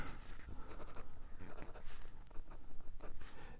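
Pencil scratching measurements onto paper while measuring a room's wall, a quick run of close, dry scribbling strokes in uneven bursts with no talking.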